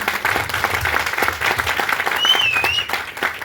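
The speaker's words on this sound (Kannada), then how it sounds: "ಅವರಿಗೆ ಒಂದು ಜೋರಾಗಿ ಚಪ್ಪಾಳೆ" Loud, steady applause from an audience at a network marketing company gathering, dense clapping running throughout with a brief whistle partway through.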